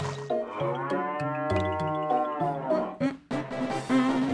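A cow in the Harvest Moon: Island of Happiness video game lets out a long, loud, stepped moo that rises and falls in pitch over several seconds, with no talking.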